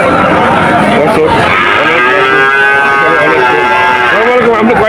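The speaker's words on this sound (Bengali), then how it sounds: "আরো অনেক বাছুর দেখা যাচ্ছে" Calves moo loudly and repeatedly at a busy cattle market near the border, long drawn-out calls overlapping amid crowd chatter and people talking.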